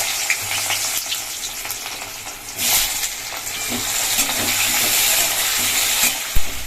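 Vegetables such as carrots sizzle in hot oil in a pan in a home kitchen, a loud continuous fry with stirring scrapes, swelling midway and ending with a sharp clank.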